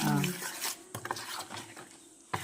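Rava idli batter stirred by hand in a bowl, with soft scraping and swishing strokes and a few light knocks of the spoon against the rim, close and moderately loud, with occasional speech in the background.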